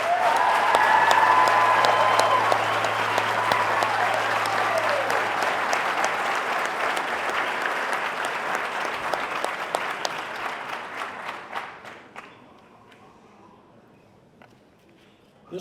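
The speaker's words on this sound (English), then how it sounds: "A round of applause for Class 42, please." A large crowd applauds loudly for several seconds at a fire academy graduation and badge pinning ceremony, the clapping gradually thinning out to a few last claps before fading away.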